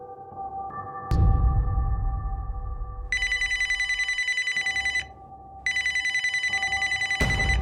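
A telephone rings in two long electronic bursts separated by a short pause, loud and close, with a low rumble and a thud at the start.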